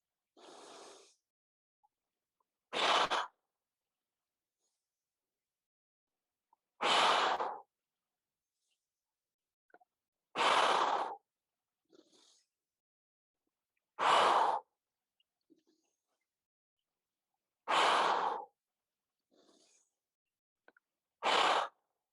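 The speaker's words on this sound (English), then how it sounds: "Just 30 more seconds of this breath." Rhythmic forceful breathing in a kundalini kriya, strong breathy exhalations repeating about every three to four seconds, close and loud, with silent gaps between and no talking.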